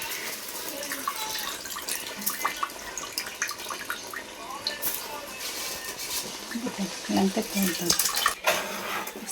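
Washed rice, about one and a half kilos for a prawn and egg biryani, splashes and trickles into a pot of water in irregular wet bursts, with a voice talking over it.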